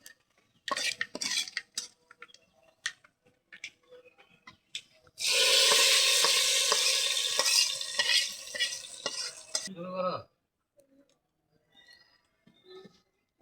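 Reddened garlic tempering hits a pot of khichuri with a loud hissing sizzle lasting several seconds, framed by scattered clinks and scrapes of a spoon stirring against the pot, close by in a home kitchen.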